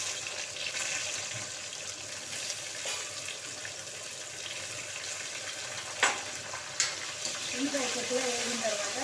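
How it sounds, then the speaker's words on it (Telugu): Onions fry in oil in a pan over tempered spices for a bhindi pulusu curry, a soft continuous sizzle close by, with a couple of sharp utensil clanks near the end. "దీంట్లో ఉల్లిపాయలు వేస్తాను"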